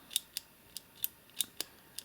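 Sharp, crisp clicks from a small internal button inside a partly dismantled device, about eight close, quiet ticks at an uneven quick pace.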